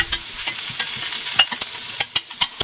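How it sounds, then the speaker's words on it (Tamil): Curry leaves and garlic fry in oil for soup, a soft steady sizzle broken by a series of sharp spoon clicks and scrapes against the pan, close and without talk. "இந்த பூண்டோடவே வந்து கருவேப்பிலையும் சேர்த்துக்கிறேன். அதுவும் நல்லா வதங்கிருக்கும்."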